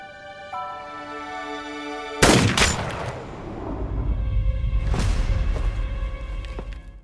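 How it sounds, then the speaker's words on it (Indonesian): In a movie scene, a sudden loud gunshot cracks over faint background music, followed by a swelling low rumble and a second sharper bang, close and dramatic. "tiba-tiba Terano ditembak oleh Agus Maghrib yang ternyata masih hidup."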